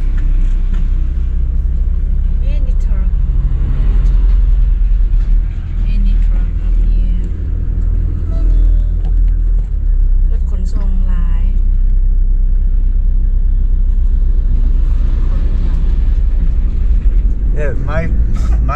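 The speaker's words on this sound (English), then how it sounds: "These trucks just come in and take over a village." Trucks rumbling through a mountain village in Laos, heavy low engine drone close by and continuous, with someone talking over the noise.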